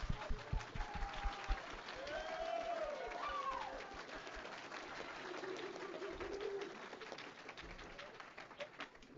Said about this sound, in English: please join me in giving a round of applause for our speakers